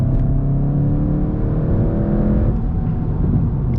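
A car engine revs hard as the driver accelerates, a loud, steady drone with rising harmonics that climb and then ease off near the end. No one speaks.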